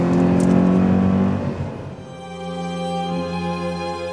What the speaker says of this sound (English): You could drift this car while reading a book. So I did.